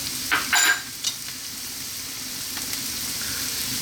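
Mushrooms, chopped or sliced, hit a pan over above-medium heat for an omelette, giving a few sharp clatters and bursts of sizzle up front that settle into a steady, soft frying hiss.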